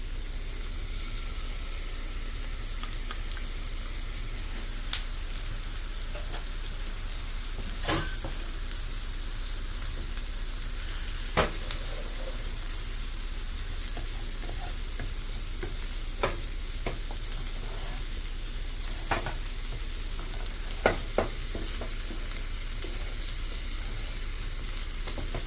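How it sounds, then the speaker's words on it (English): Beaten egg frying in a hot pan for Thai basil fried rice gives a steady, close sizzle throughout, with occasional light clicks and scrapes from a utensil stirring the pan. "And you want to turn it up a little bit at this point so your egg can cook quickly."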